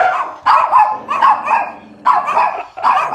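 Two chihuahuas bark in several quick, close, high yapping bursts with short gaps between them, loud and alone indoors.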